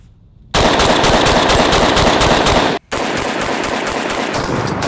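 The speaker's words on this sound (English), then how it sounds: "I want to try and rapid fire this as fast as we can on the steel and see how it feels." A Remington shotgun fires rapidly at steel targets, a loud, dense run of shots that stops briefly and then resumes.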